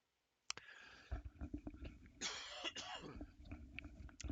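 A person coughs and clears their throat up close, a burst of rough coughs after a sharp start, followed by scattered small clicks and rustles.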